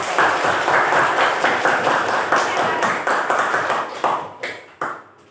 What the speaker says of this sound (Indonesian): Kita hadir semua, tepuk tangan dulu untuk kali ini